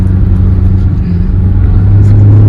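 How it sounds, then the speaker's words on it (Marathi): A Mahindra Bolero climbs a hill road in second gear, its engine droning as a loud, steady low rumble heard close from inside the car. "बलेरो गाडी मस्त आली"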